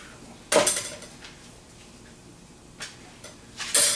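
Pieces of cut-up bone are thrown into a cooking pot while making sauce, giving a few sharp clattering knocks, one loud hit early, a softer one near the middle and another clatter at the end, with quiet between.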